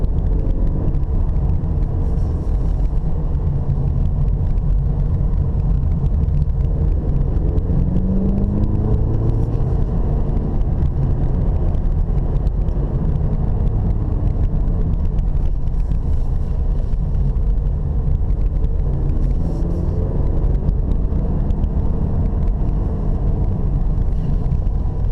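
A Cadillac CT4 climbs the mountain road on Mount Umunhum, its engine and tyre roar steady and close throughout with wind rushing past, brief swells of revving as it accelerates out of bends.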